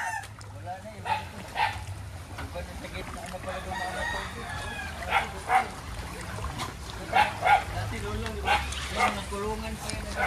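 Chickens at a coop in Montalban, Rizal during Typhoon Enteng, with a rooster crowing and hens clucking amid rain and wind noise, plus a dog barking, while people talk nearby.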